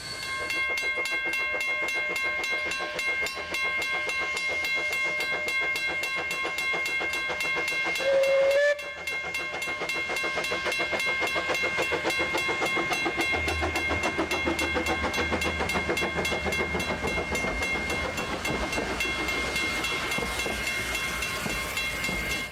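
A 1925 Fowler steam locomotive working in tandem with CB 113 hauls a passenger train, with continuous rail rumble and chuffing, a brief sharp whistle blast midway, and heavier low rumbling in the later part as the train passes.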